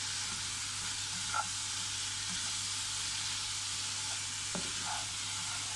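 A sweet wheat kozhakkatta filling is stirred in a pan, sizzling softly and steadily under a low hum, with a few light scrapes and taps from the spoon.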